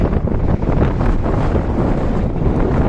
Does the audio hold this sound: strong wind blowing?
yes